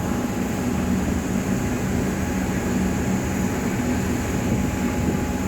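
A Melbourne PT Metro suburban train passing in Zone 3, a steady loud rumble and roar of rolling wheels and motors, continuous and close with no talk.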